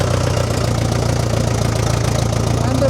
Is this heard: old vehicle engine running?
yes